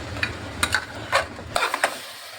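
A spoon scrapes and clacks against a pan while potatoes and papaya are stirred with spices, several distinct knocks over a low sizzle that drops away near the end.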